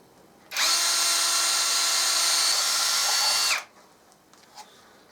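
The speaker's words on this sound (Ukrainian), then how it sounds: "Зараз свердлю і пробую" A power drill whines steadily at high speed for about three seconds, driving into a workshop light fixture, starting and stopping abruptly, followed by a few faint clicks.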